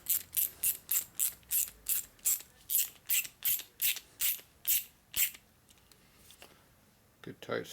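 A clamp being ratcheted tight onto a crimped rubber gas or oil line: a steady run of about fourteen sharp, evenly spaced ratchet clicks, then a quiet pause and a brief rustle at the end.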